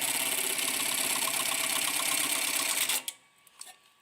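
A Thor GT-1900B-IP electronic tacker stitches a one-inch vertical tack in a rapid, buzzing mechanical run of needle strokes that stops abruptly near the end, leaving a few faint clicks and taps in a quiet room.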